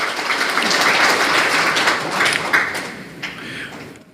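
A crowd applauds steadily at a founding ceremony for a civic group coalition in Busan, a dense, loud wash of clapping that thins slightly before fading out.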